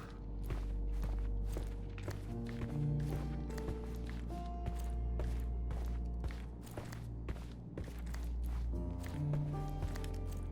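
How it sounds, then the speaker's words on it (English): Footsteps in the Sherlock Holmes Chapter One video game, a steady run of soft thuds from above that continues throughout over a low musical drone. "I heard footsteps upstairs a second ago"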